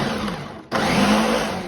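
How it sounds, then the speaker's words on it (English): A kitchen blender pulses homemade Marionberry jam into a dough, a loud steady whirring motor that cuts out briefly and then starts again at full strength. "I'm using my homemade Marionberry jam right in the blender. And then pulse until you create a dough."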